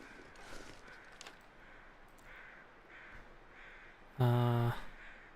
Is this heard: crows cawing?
yes